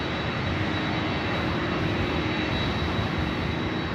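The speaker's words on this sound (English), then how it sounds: "Next arrival is a Bombardier Challenger 300." Bombardier Challenger 300 business jet arriving at LAX, a loud, constant broadband engine rush with a thin steady whine over it.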